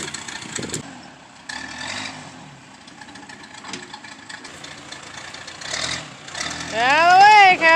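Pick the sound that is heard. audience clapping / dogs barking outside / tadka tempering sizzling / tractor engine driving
tractor engine driving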